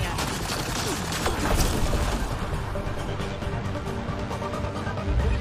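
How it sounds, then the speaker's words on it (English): Dense, continuous gunfire and impacts from the video game Mass Effect: Andromeda fill the whole stretch, a loud chaotic barrage with crashes and pops layered over constant noise. "What are we shooting at?"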